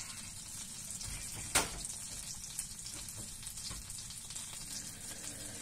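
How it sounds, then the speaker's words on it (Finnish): Butter melting in a frying pan gives off a quiet, steady sizzle and crackle, with one sharp clack partway through. "mä nyt laitoin tuohon voita tuohon pannulle"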